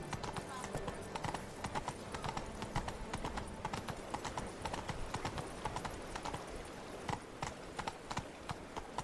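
Roach the horse's hooves clip-clop steadily in The Witcher 3, a quick even rhythm of close, crisp hoofbeats running throughout beneath a voice.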